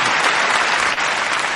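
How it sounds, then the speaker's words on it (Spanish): A burst of loud, dense applause from a gathered group celebrating a colleague at a seminary event, continuous clapping from many hands for the whole moment. "un aplauso a Galdi"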